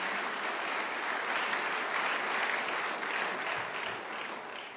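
A church congregation clapping together at a Tagalog preaching service, a continuous, full wash of applause from many hands at steady loudness, fading slightly in the final moments.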